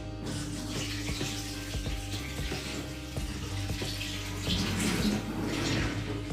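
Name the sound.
water being poured out and thrown away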